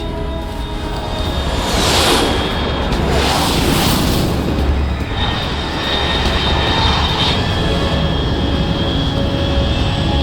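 A jet aircraft roars overhead in the video game Metal Gear Solid Delta, a loud sustained rushing whoosh that swells and fades across the scene with a steady engine hum beneath and no voices.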